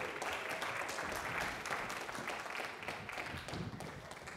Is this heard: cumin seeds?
no